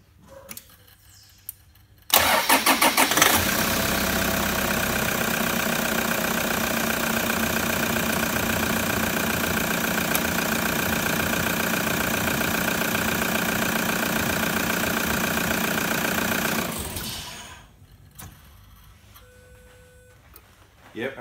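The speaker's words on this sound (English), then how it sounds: "as soon as we start the car, you'll see charge voltage." A car engine cranks over and starts, then settles into a steady, loud idle that runs for about fifteen seconds before cutting off, with near silence on either side.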